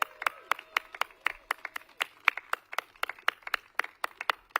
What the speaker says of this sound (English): Can everybody give them a big round of applause?